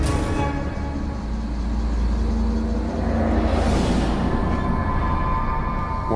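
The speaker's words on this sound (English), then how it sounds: "she hears a car approaching" A car approaches on a road, a steady low engine rumble that stays loud throughout with a swell of tyre and wind noise building near the middle, no talk.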